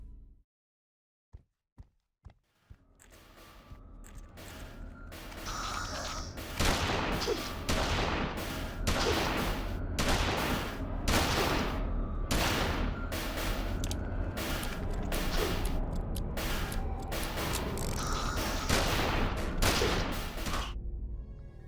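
Firearm gunfire from the Penumbra video game tech demo, a few isolated shots and then a long dense barrage of rapid, loud, closely spaced bursts with no voices.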